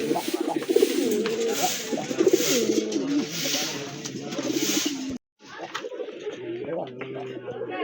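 Active caged pigeons coo steadily up close, a pair offered for sale, with a male's repeated rolling call standing out. Someone talks over the cooing, and the sound briefly cuts out before resuming.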